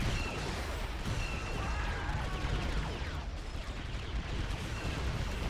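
Dense, continuous battle din from a Star Wars: Galaxy at War mod trench assault on Jakku, where rocket infantry destroy an AT-ST walker. Blasts and gunfire overlap in a loud, chaotic wash with no single clear explosion standing out.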